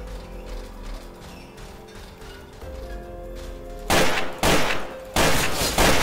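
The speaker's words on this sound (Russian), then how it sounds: "Такой звук прикольный выстрела, когда вентиляцией стреляешь." Under a steady electronic hum, three loud, heavy bursts of gunfire from a vent in Garry's Mod ring out in quick succession near the end, each a rough, sustained blast.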